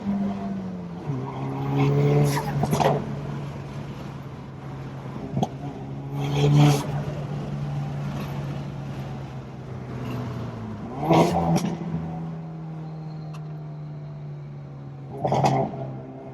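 Hyundai Veloster N with a new blow-off valve and big boost kit, run at wide open throttle: a loud droning exhaust with repeated rising revs, a sharp burst and release at each of several shifts.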